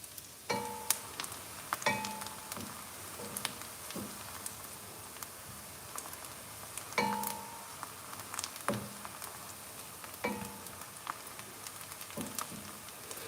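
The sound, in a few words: onions frying in a pan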